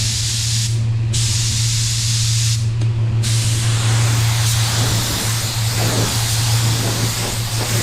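Steady, loud hiss of a Carbonio 1.3 spray gun laying down EC520 base coat at 30 PSI, running continuously with two brief interruptions as the trigger is released, over a low constant compressor hum.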